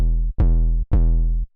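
A snappy 808 bass in a music production sounds twice in a row, each note opening with a sharp pitch-dropping attack before a loud, sustained low tone that cuts off cleanly.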